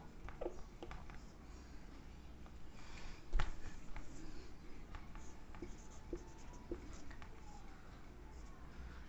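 A teacher writes on a board during a chemistry lesson, producing a steady run of faint scratchy strokes and taps over several seconds, with one sharper knock partway through and low room noise behind.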